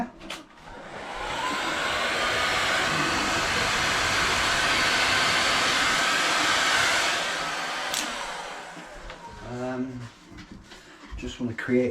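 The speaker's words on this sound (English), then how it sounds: "Just going to get my Bosch hairdryer." A Bosch hairdryer blows with a loud, steady rushing whir for about seven seconds, close by, then winds down as a person starts talking.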